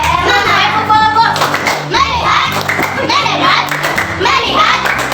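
A class of fourth-grade children performs a patterned clapping chant, crisp grouped claps landing in steady rhythm amid lively, overlapping young voices nearby.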